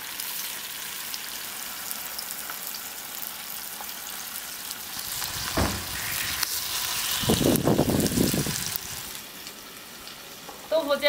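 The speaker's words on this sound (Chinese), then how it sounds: "把豆腐煎一下" Tofu pan-frying in hot oil on a farmhouse stove, a continuous soft crackling sizzle through the clip with a scrape around the middle and a louder spell of spattering later, close, with no talking.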